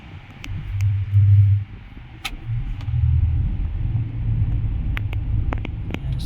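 Heavy road traffic sits jammed in Novaliches, giving a low, steady engine rumble of idling cars with some wind noise on the microphone and a few faint clicks.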